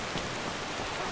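Steady rain falls in the city of Markarth in the video game Skyrim, a constant soft hiss of drops that fills the short moment evenly, with no voices.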